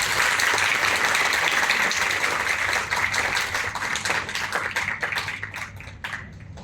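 An audience at an academic commemoration of 100 years of Bose-Einstein statistics applauds to welcome a speaker, sustained dense clapping that thins into scattered claps and fades over several seconds.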